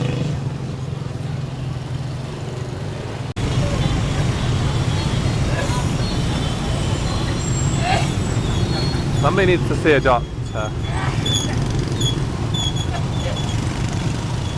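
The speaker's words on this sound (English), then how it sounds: "the traffic just doesn't die. You just have to weave in between it." Busy street traffic in Ho Chi Minh City, Vietnam, a constant roar of engines with vehicles passing close and a few horn-like tones, while people talk over it.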